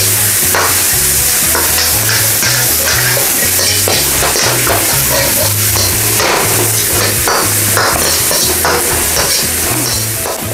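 Shiitake mushrooms with carrots being stir-fried for noodles, loud continuous sizzling close up with rhythmic scraping and clacking of a utensil against the pan throughout.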